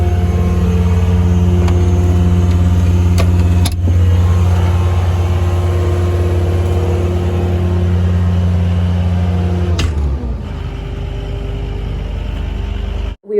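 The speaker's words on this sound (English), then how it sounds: "I was actually driving the skid steer with the bale attachment" Skid steer loader with a bale attachment moving hay bales, its engine a loud, steady drone that holds throughout, with a brief shift near the end as the revs drop.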